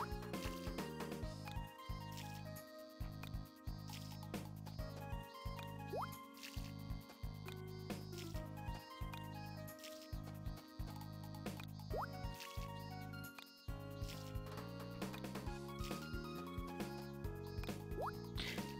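Bubbly, plinking water drips and pours from watering crops in the farming video game Harvest Moon, repeating in quick bursts over cheerful game music.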